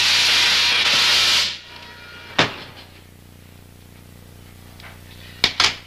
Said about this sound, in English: a piece of steel wool bursts into flame instantly